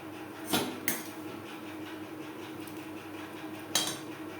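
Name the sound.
stirring dalia khichuri with mung dal and fried vegetables in pot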